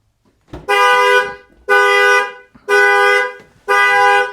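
A Jeep Compass alarm blares its horn in four long, evenly spaced honks, loud and close, with brief quiet gaps between blasts.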